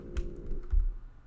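Keys clack on a Bluetooth computer keyboard in a few soft, close taps over a faint steady hum, with no one talking.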